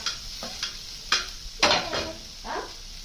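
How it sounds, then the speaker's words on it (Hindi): Tomatoes hit roasted spices in an iron kadhai, giving a steady close sizzle broken by several scraping stirs of a spoon against the pan. "मसाले भुन गए हैं और अब हम लोग डालेंगे टमाटोज"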